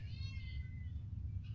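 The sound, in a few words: cat meowing at the window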